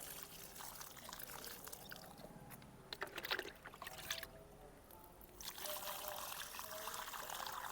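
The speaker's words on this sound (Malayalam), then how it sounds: "ഒരു രണ്ട് മഗ് വെച്ച് ഓരോ ചെടിക്കും നമുക്ക് ഒഴിച്ചു കൊടുക്കാം" Homemade liquid fertilizer being poured from a mug onto garden plants, a soft trickling splash in several short pours with brief pauses, fairly faint and close.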